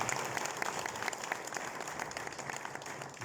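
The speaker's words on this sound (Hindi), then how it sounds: "उनके लिए एक जोरदार ताली हो जाए" A class audience at a purohit course in Port Louis, Mauritius, gives a sustained, fairly soft round of clapping for Acharya Shailendra Uniyal, with dense claps blending into a steady wash.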